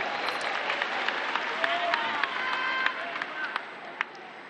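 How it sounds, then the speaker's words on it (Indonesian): A crowd of volunteers at a political speech in Indonesia claps steadily, producing a dense wash of applause with scattered sharper claps standing out, moderately distant and continuous. "Boleh tepuk tangan buat semua yang hadir di sini."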